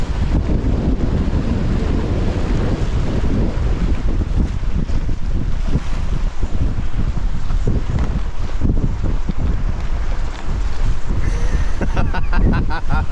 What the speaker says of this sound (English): Because it's always windy here